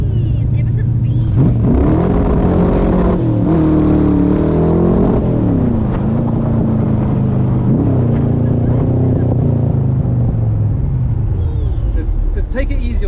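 Lamborghini Murcielago sports car accelerating hard down a hill, a loud engine note rising and falling through several revs close by, with people talking over it.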